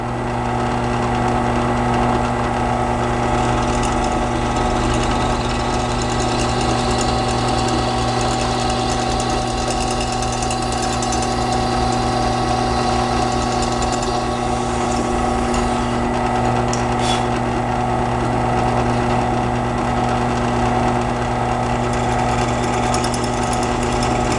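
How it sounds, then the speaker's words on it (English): A steady, loud mechanical whirring and grinding as a power drill bores holes in wood continuously for a long stretch, without pauses or speech. "I'm going to drill 2 holes in the lines that we marked"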